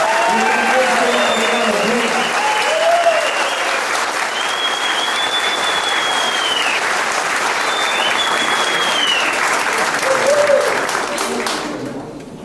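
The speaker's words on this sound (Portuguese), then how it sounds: "que a gente dê uma salva de palmas para todos os varejeiros que estão aqui presentes" At a reunion of former Banerj bank employees, an audience gives sustained applause to the retailers present, dense clapping with a few raised voices and whistles over it, fading out at the end.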